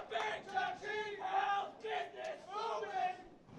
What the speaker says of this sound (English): There's a little cheer going.